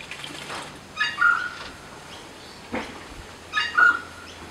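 Noisy friarbirds calling in the background of a garden with bangalow palms, two bursts of harsh, squawky calls a few seconds apart, moderately distant and not loud.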